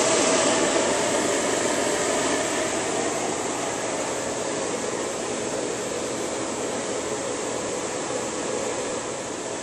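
A propane jet burner runs with all jets lit at about 0.5 psi, giving a steady, loud broadband roar that holds without change from start to finish.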